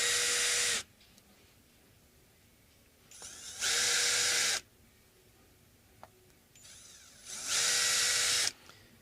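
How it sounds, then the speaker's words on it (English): A power drill backs screws out of a Fender Jazz Bass during a rewiring job, in three separate whirring bursts of about a second each with quiet pauses between them and no talking. "I've removed this before, so I'll use the power tool."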